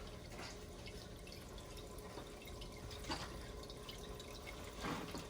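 Water poured to fill the reservoir of an Aerogarden indoor hydroponic garden, a soft steady trickle and splash running low under faint room noise, with a couple of brief louder sloshes near the end.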